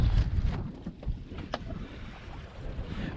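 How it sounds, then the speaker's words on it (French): Wind and water noise from a wing foil sailor tacking out on open water, a steady broadband rush with gusty wind buffeting and light splashes, no voices. "Donc ce que je vais faire, c'est je vais virer de bord."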